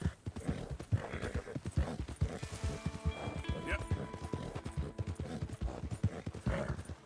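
Steady rhythmic hoofbeats of a horse clip-clop at a trot throughout in Red Dead Redemption 2, near and clear, with a brief whinny and someone talking over the sound.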